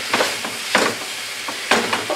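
Ground meat sizzles steadily in a pan for taco salad, broken by a few sharp scraping stirs as it is broken up and browned, close and moderately loud with no talking.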